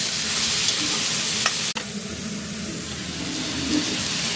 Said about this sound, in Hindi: ये है आपका अदरक, लहसुन और ग्रीन चिली। अब इसको हम अच्छे से पकाएंगे।